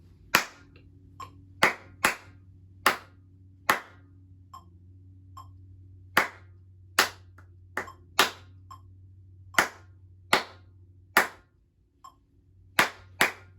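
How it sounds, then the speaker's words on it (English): Students in a lesson clap a rhythm together, sharp unison claps in an uneven counted pattern with pauses between groups, close and crisp over a faint low hum, with no talking. "Number 10, counting and clapping"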